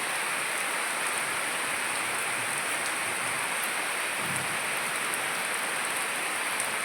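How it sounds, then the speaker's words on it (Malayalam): Summer rain pours down in a constant, even hiss, dense and unbroken from start to finish. "നമ്മൾ ചെടികൾക്കൊക്കെ നല്ലൊരു ആശ്വാസമായിട്ടുള്ള മഴ"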